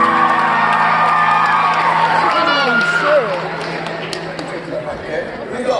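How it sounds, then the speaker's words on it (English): A lively concert crowd cheers, whoops and claps, loud at first and then easing off, with voices shouting and talking over the noise. "give them a round of applause before we even start"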